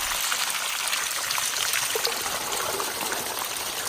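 Water trickles steadily at a trail water source in the San Jacinto mountains, a continuous bright splashing and babbling close by with no voices.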